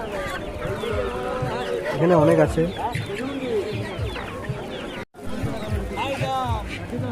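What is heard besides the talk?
chickens clucking at market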